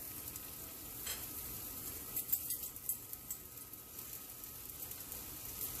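Meatballs crackle and sizzle in a hot pan, a steady frying hiss with occasional pops and stirring sounds close by.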